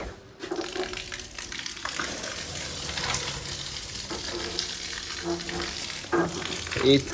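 Water sprays forcefully from a hose in a steady, continuous hiss, with a few faint clicks and knocks.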